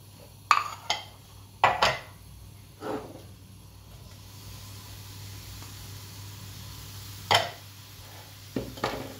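Zucchini, eggplant and pepper are stirred in a hot pan for a quiche filling, giving scattered scraping and clinking knocks over a steady sizzle, several close strikes early and a few more near the end.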